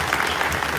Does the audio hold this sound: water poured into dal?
no